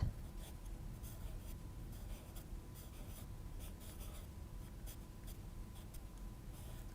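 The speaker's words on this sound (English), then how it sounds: "I'm going to grab a pencil, just a normal graphite pencil, and draw some teeth." A normal graphite pencil sketching teeth on paper, giving a steady, faint scratchy scribbling that runs continuously and close up, with no talking over it.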